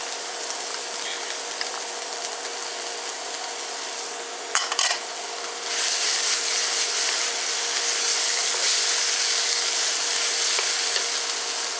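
Ginger and garlic hit a hot wok on a NuWave induction cooktop, a steady broadband sizzle that jumps louder after a brief clatter midway and then holds strong and even, close up with no talk.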